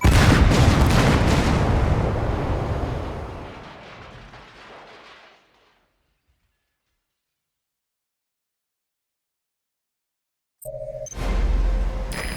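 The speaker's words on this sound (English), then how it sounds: "You destroyed the separator tank. Objectives complete. Though security will be tighter after that explosion." A separator tank blows up in Metal Gear Solid V, a loud, booming blast whose roar slowly fades to silence, before a short burst of game noise returns near the end.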